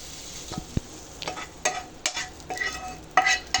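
Spoon stirring an omelette egg mixture together with sautéed vegetables, quick close scraping strokes and wet swishes against a pan over a light sizzle, a few sharper clicks, no talking.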